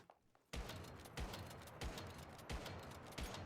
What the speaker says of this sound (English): What you can do with the bingo actually is you can rapid fire it.